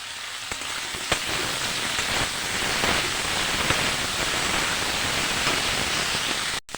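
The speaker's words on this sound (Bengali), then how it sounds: "সব সবজি একবারে ভালো করে ভেজে নেব।" Eggplant, green chilli and mixed vegetables fry in a pan with a steady, dense sizzle that runs loud and unbroken, with a few soft clicks and no talking.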